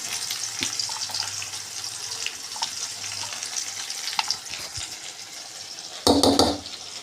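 Onions fry with a soft, steady sizzle under faint background noise and occasional light stirring ticks, ending in a brief louder burst of splashing or hissing near the end.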